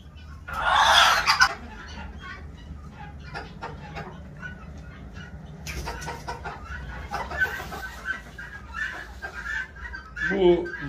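A broody hen with no eggs clucks and grumbles on a farm, close and fairly loud, in repeated throaty bursts, with someone talking over part of it.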